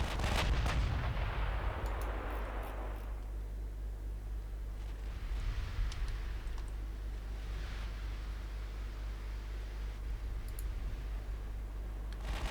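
Artillery fires in a Norwegian Campaign 1955 naval wargame: a sharp blast at the start gives way to a steady low rumble with faint distant booms.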